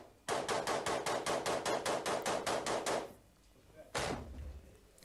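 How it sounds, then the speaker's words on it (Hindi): Automatic gunfire in combat near Kyiv during the Russia–Ukraine war: a rapid, evenly spaced burst of about fourteen loud, close shots, then a pause and a single further shot with lingering echo. "रूसी सेना पर यूक्रेन की ताबड़तोड़ फायरिंग की ये तस्वीर"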